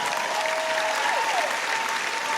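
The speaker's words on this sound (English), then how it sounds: "go ahead and clap your hands" A large audience at an inspirational talk claps hands together in a steady, dense wash of applause, with a faint tonal whistle-like sound sliding beneath it.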